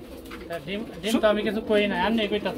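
Almond male pigeon with a chocolate-coloured hen, cooing in soft rolling bursts that grow fuller after the first second, close by at a pigeon sale, with some voices mixed in.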